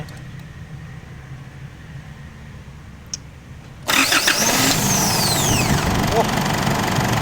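An Isuzu D-Max pickup, its starter motor just repaired, sits in quiet ambience, then the engine suddenly fires up and settles into a loud, steady idle close by.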